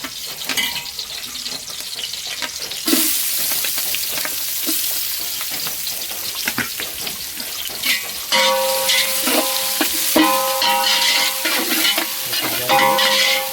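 Green chillies and onions sizzle and fry in a pan with steady stirring and scraping, a continuous hiss that grows louder and denser partway through, with clinks of a utensil against the pan.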